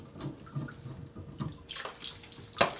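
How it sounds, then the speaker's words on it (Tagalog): Water running from a newly fitted kitchen faucet in a remodeled countertop, starting after quiet handling noises and flowing in a close, steady hiss with a brief louder splash. "Ayan po, lumabas na yung tubig."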